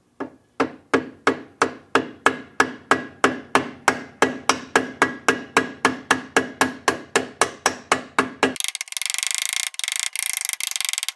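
A rubber mallet pounds a socket to drive a rear IRS wheel bearing out of a VW Beetle, striking about thirty times in a steady, even rhythm, loud and close, before a burst of harsh broadband noise takes over.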